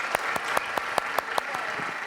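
A studio audience on a Turkish morning talk show claps in a brisk, even rhythm, sharp individual hand claps standing out from a steady wash of applause over the whole stretch.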